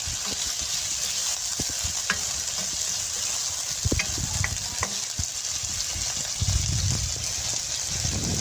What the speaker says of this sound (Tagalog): Ginisa lang natin to sa butter yung sayote. Butter at bawang, sibuyas.